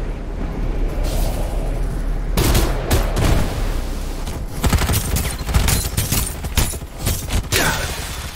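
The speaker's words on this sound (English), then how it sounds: "Time for some artillery." Artillery fire in the Farlight 84 video game: a dense barrage of booming blasts and rapid gunfire, loud and continuous, with heavy impacts clustering after the first couple of seconds and no talk over it.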